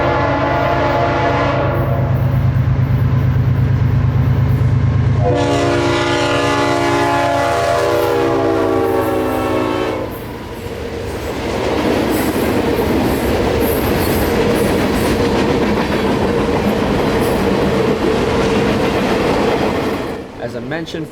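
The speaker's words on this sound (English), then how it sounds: "452 is a mixed manifest freight train coming north out of Miami, Florida's Hialeah rail yard" A loud train horn blasts repeatedly, then a mixed manifest freight train heading north from Hialeah rail yard, Miami, rumbles past close by with steady clattering wheels and screeching.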